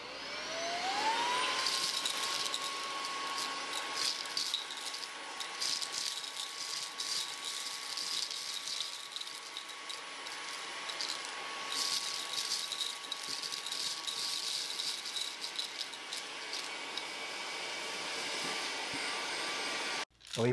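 Fanttik cordless car vacuum running steadily, its high motor whine holding a constant pitch after a quick spin-up, with gritty rattles of dust and debris rushing through the nozzle, loud and close for about twenty seconds.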